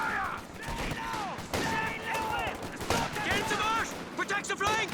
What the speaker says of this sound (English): Probably has to get out of here with this machine gun now as well.